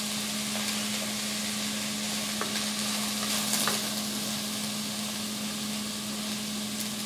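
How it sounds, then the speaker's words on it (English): Vegetables for a sweet potato chili sauté in a pan, producing a soft, steady sizzle with a constant low hum underneath and faint stirring scrapes, no one talking. "I'm going to saute this for approximately 3 minutes until all the vegetables begin to sweat."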